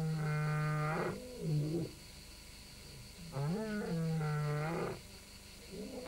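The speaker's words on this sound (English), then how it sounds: "The sounds of unfamiliar roars have alerted Tamu to imminent danger." Lions roar in the wild in a series of long, deep, loud calls, with two main roaring bouts separated by a short pause and no talking.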